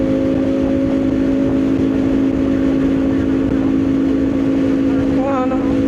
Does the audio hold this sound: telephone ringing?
no